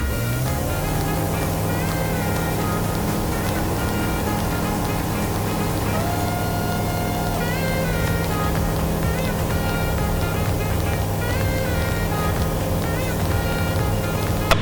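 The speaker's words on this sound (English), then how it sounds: "Now we're going to go full power like we would on takeoff." A small training airplane's engine runs steadily at full takeoff power, a loud, constant drone with a stable harmonic hum that holds throughout the clip, with no talk.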